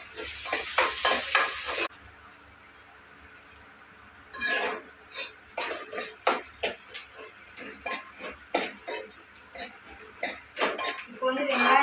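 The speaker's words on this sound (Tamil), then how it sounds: "இப்போ வந்து வெங்காயத்தை நல்லா வதக்கிக்கலாம்." Onions sautéing in a pan while being stirred, with bursts of sizzling and utensil scraping against the pan, a quiet pause midway, then renewed stirring clatter and frying hiss close by.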